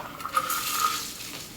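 A shaken cocktail made with lemon thyme syrup is fine strained over ice into a glass, giving a steady watery pour with faint clinks of ice and metal, close and moderately quiet, with no talking.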